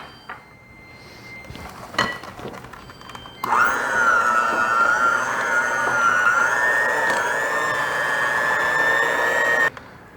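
An electric mixer whirs steadily through German chocolate cake-mix cookie dough, a loud, even motor whine after a few clunks and knocks, cutting off abruptly at the end.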